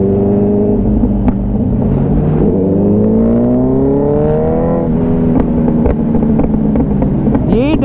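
Kawasaki Z900 motorcycle with a full-system exhaust revving loudly and close by, the engine note climbing and falling in sustained surges over several seconds, with a sharp burst at the end.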